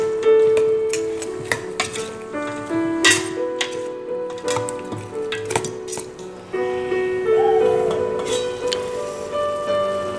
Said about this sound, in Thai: หลังจากนั้นก็คั่วให้มันเข้ากัน